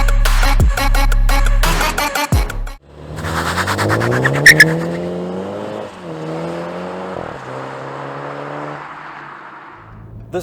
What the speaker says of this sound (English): This version of the Toyota Supra uses the same 2-liter turbocharged 4-cylinder engine that is found in the BMW 330i or 430i